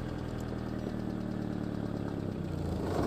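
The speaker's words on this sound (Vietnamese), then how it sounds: "tôi vừa cho xe nổ máy" A motorbike engine idles at close range with a steady, even low rumble that swells slightly at the very end.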